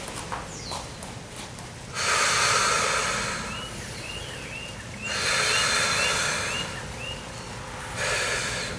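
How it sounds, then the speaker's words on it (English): Deep breathing during a yoga flow: three long, loud breaths through the nose, each lasting a few seconds with quiet pauses between, close to the listener. "Remembering to breathe."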